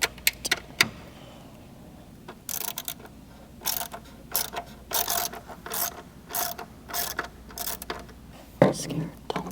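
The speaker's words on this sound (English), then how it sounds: "you're gonna take an E7 Torx bit and you're gonna undo these two screws" Torx E7 bit undoing coolant-area screws on a BMW G80 M3 Competition: repeated sharp ratcheting clicks and metallic clatters in uneven bursts, close and fairly quiet, with brief pauses between runs.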